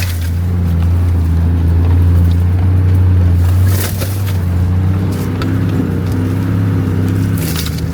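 Four-wheel drive car crawling along a washed-out, overgrown rocky track, a steady low engine rumble up close with brush scraping and occasional knocks and crunches from rocks.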